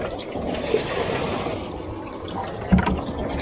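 Water pouring and splashing into a fishing boat's live well, a steady churning trickle close by, with a brief louder splash near the end and no talk.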